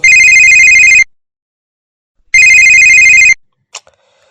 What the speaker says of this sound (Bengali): কে আবার ফোন করছে?